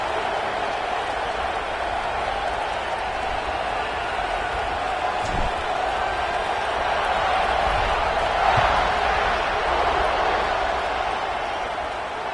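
Football stadium crowd before kickoff, a dense steady roar of many voices at a distance with a slight swell partway through, continuous and unbroken by any single voice.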